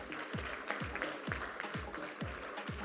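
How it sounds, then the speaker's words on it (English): Audience applause for award winners at a technology and R&D summit ceremony, a steady broadband patter of clapping with regular low thumps running underneath throughout. "May we have a big round of applause for all of them."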